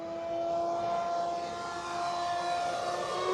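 A Hangar 9 PT-19 RC model airplane takes off under about 30% throttle, its motor giving a steady, sustained tonal whine that holds fairly loud and even throughout, with no talking.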